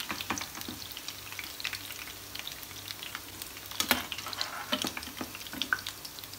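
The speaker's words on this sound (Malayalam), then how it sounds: "ഇനി നമുക്ക് എല്ലാ ചിക്കനും ഇതുപോലെ തന്നെ ഫ്രൈ ആക്കി എടുക്കാം" Chicken pieces frying in hot oil for Chicken 65, a steady crackling sizzle with scattered sharp pops and occasional stirring, close and moderately quiet, no talking.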